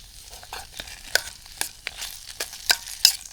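Tomato sauce being stirred into a curry in a pan at an island campsite, heard as quiet spoon-and-pan clatters and scrapes in an uneven rhythm over a faint sizzle, close by.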